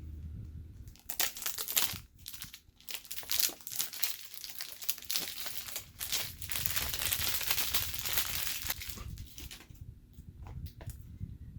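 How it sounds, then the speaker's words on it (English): Cellophane wrapping is peeled and crumpled off a designer perfume box, making dense, close crackling and crinkling that comes in bursts with brief pauses, no voices. "Anyone who doesn't like the sound of cellophane, mute now because there's going to be a lot of it."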